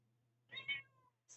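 A house cat gives a soft, faint meow with two quick pulses, then a short high chirp a moment later. There is no other sound over a low steady hum.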